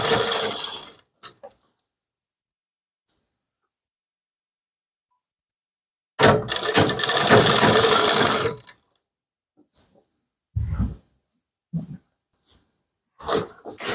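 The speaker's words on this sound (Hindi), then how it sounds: "इस तरह से आपको ऐसे सिलाई लगाना है।" A sewing machine stitches a kurti in short separate bursts, with one long continuous run in the middle and quiet pauses between; loud and close, with no talking.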